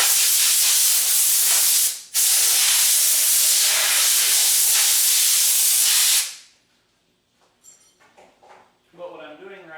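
A machine cabinet runs loudly in a workshop where clamping screws are being fitted to a mold, giving a dense steady hiss that drops out briefly, then stops after about six seconds, leaving faint sounds and a voice.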